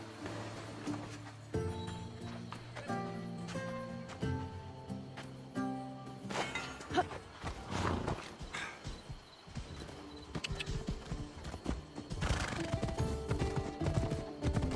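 Hooves of a ridden horse in Assassin's Creed Odyssey clop steadily under a musical score, with a whinny in the mix; the hoofbeats stay fairly faint and even-paced throughout.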